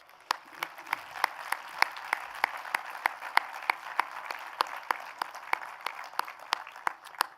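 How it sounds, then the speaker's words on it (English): Audience applause at a university president's convocation address, a steady wash of many hands clapping with sharp individual claps standing out throughout, fairly distant and even. "that's why they deserve a round of applause."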